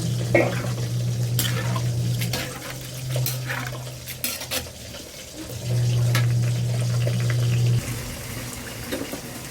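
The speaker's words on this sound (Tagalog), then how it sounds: "Lagyan natin ng konting tubig. Para may konting sabaw." Water runs into a cooking pan of sautéed chayote with ground meat, a steady hissing pour in a few bursts, with light clinks of a utensil against the pan between them.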